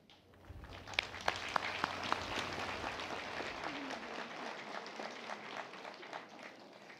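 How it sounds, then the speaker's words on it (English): Graduating military academy cadets applaud in a big ceremony, starting with a few sharp individual claps that quickly swell into a full, sustained round of crowd clapping. "render the loudest round of applause to your family, especially to your parents and guardians"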